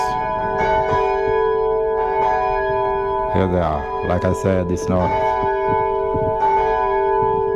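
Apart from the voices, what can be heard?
Swan Bells church bells ringing in Perth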